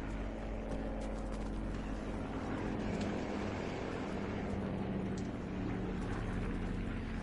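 A helicopter in the video game Call of Duty Black Ops 4 Blackout gives off a steady, droning rotor and engine hum that stays constant and fairly faint throughout, with no voice over it.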